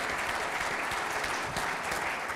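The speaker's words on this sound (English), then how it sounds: "Give him another round of applause." A crowd claps steadily, a dense sustained round of applause at moderate distance with no voices over it.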